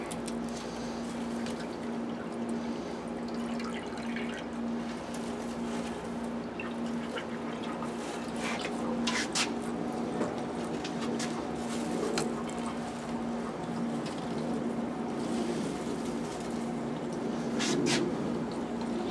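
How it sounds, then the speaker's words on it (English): A solar-powered fountain with a backup battery runs steadily, its water pouring and trickling in a continuous splashing stream under a constant hum, with a few sharper bursts of spray. "this is a solar-powered fountain"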